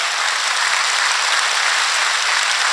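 A large crowd at a saints' gathering at a Dera Baba breaks into loud, thick applause, a continuous roar of many hands clapping at close range with no voices over it.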